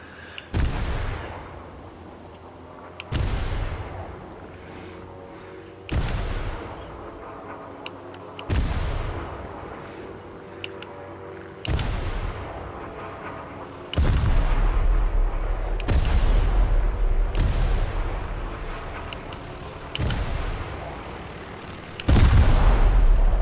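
Gunfire in War Thunder: loud, booming cannon shots at regular intervals of about three seconds, each decaying into a ringing tail, with a steady low engine rumble underneath that swells in the second half.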